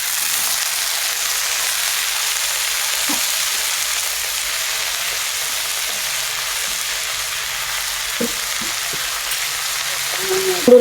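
Leafy greens frying in a little oil in a pan, giving a steady, close sizzle that runs throughout with a few faint stirring clinks near the end.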